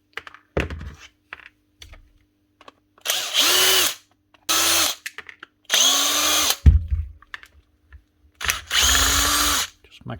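Bosch GDX 18V-EC impact driver backing out screws: four loud whirring bursts of about a second each, separated by pauses, with handling clicks and knocks in between.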